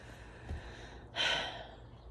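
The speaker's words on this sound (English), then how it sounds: "just take a breath" A single deep breath is drawn in, a soft airy inhale swelling briefly and then fading, heard close and quiet in an otherwise calm, hushed space.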